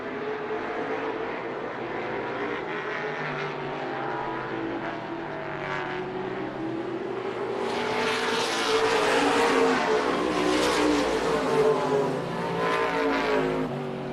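Race cars lapping Colorado National Speedway during trophy dashes, a pack of engines roaring past at a distance and swelling louder toward the end, with no talk over the engine noise.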